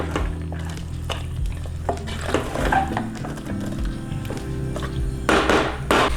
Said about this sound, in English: Let the coconut and the mutton meat blend together nice and thoroughly.